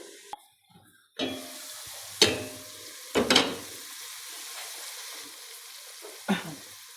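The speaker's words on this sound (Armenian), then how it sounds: "Մի քիչ սև պղպեղ եմ լցնում, տապակվի, որ լավ արամատ ունենանք" Vegetables fry in a pot for beef borscht, a steady sizzle broken by sharp bursts of stirring and clatter, with a quiet hush of water in the background.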